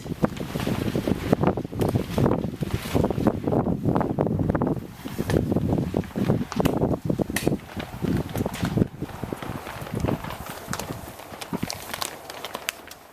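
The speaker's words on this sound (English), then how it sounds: "It's very windy, it keeps blowing the plastic up." Strong wind gusting across a high tunnel greenhouse in fall, whipping and flapping its loose plastic sheeting; a loud, continuous rushing roar with irregular slapping bursts, close to the microphone, with no talking.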